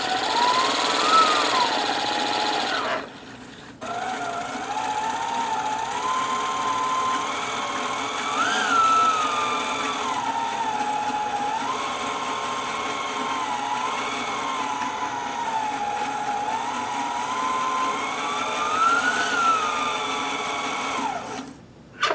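A White Euroflair 8910 sewing machine, made by Husqvarna Viking, winds a bobbin with a steady, close motor whir that pauses briefly near the start, then runs on with gently wavering pitch until it stops at the end.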